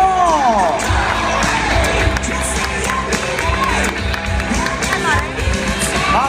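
A large crowd cheers and claps in the stands at the Red Bull X-Fighters freestyle motocross event in Madrid, a dense sustained roar with an excited announcer talking over it.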